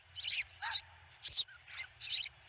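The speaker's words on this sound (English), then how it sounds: "You can hear all the little birds in the nest underneath." Little nestling birds chirp from a nest in Montana, sounding five separate bursts of high, busy tweeting at a steady pace over a low background hum.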